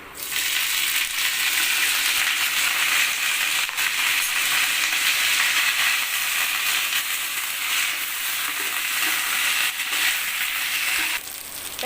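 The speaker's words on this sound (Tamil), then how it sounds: "எண்ணெய் ஊற்றிட்டு இந்த கருவேப்பிலையை தனியாக வறுத்துக்கலாம்" Curry leaves fry in hot oil in a pan, giving a loud, steady sizzle that crackles continuously for about twelve seconds, with occasional stirring clinks and no talking.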